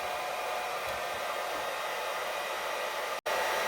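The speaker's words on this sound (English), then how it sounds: "let's see what happens if we jump the hairdryer all the way to highest position" A hair dryer on its highest setting, powered from a portable power station near 2,000 watts, runs with a steady, loud whooshing roar that cuts out abruptly for an instant near the end before resuming.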